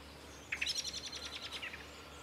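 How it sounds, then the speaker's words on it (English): Blackbird alarm call: a loud, near run of sharp, rapid chattering notes lasting under a second and a half, alone against a quiet background. "We've all heard this one, an unhappy blackbird."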